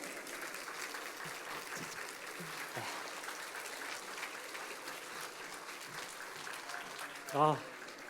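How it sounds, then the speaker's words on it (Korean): A church audience applauds during a Korean congregation's summer retreat service, a soft, steady patter of clapping heard from a distance, with a brief louder thump near the end. "우리 다시 한번 우리 박희 형제에게 큰 박수 한번 부탁드리겠습니까?"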